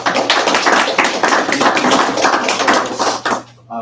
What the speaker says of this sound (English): I'd like to ask for just like a round of applause